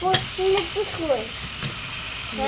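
Chicken meat hitting a hot cooking pan and frying with a steady, loud sizzle and hiss, stirring scrapes and a faint voice in the background.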